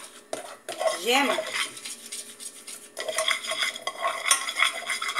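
A spoon clatters and scrapes steadily around a bowl as egg yolk and vanilla are stirred, with a brief voice among the quick clinking strokes.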